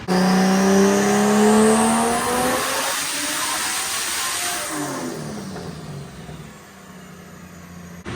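Big single-turbo BMW E36 engine roaring through a dyno pull, a loud sustained rev climbing in pitch, then a falling sweep as the run winds down, with turbo whine and no talk.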